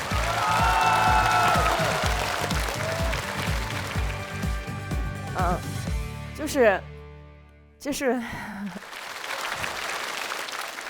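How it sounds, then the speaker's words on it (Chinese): Audience clapping at a stand-up comedy show, loud sustained applause that fades out, while a speaker talks over it and a musical sting plays before talking resumes. "我们大家再给冰淇淋鼓掌，好不好？"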